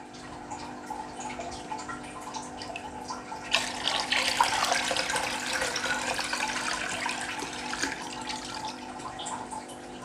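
Water is poured into a container to raise its level for an indoor water-flea culture, a steady splashing stream that swells loudly around the middle and runs on to the end, with no talking.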